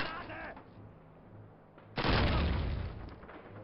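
A thrown bomb goes off in Call of Duty with a sudden loud blast partway through, and a rumbling roar follows. Quieter game noise comes before it.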